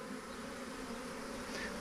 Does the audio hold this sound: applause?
no